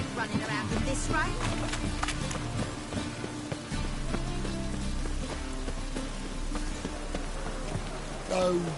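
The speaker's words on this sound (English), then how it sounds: "Running around in this rain." Steady rain in the video game The Witcher 3 hisses continuously beneath layered in-game music and effects, loud and unbroken throughout.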